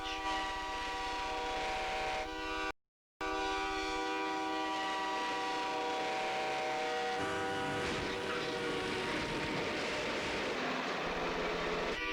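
A train rumbles steadily past with a sustained horn tone, the noise swelling and growing rougher toward the end, with no talk.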